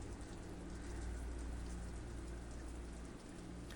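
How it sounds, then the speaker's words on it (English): Steady, even rain hiss from a video game scene with poisonous red rain, a continuous wash of fine drops at moderate level with no voices over it. "Poisonous rain."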